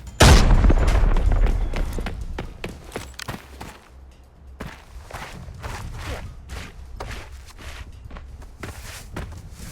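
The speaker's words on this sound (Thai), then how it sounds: "ปาระเบิดซ้ำไปก่อนนะ" A heavy grenade explosion booms at the start in Arena Breakout, then fades into scattered thumps, clicks and movement noises of gameplay.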